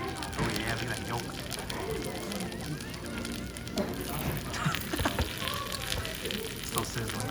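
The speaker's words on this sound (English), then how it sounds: "Still sizzling." Korean food keeps sizzling and crackling in a hot dish during a meal, a dense close crackle heard under people talking.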